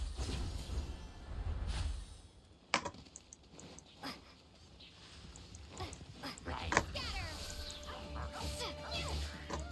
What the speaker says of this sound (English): Why is there just a dog here?